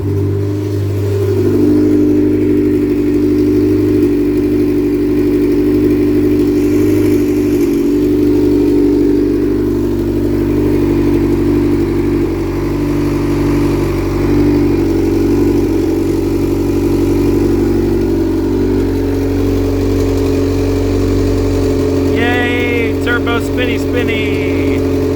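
An engine runs steadily at idle on its first startup after a Z6 crankshaft was installed, a loud continuous drone throughout with a faint higher whine near the end.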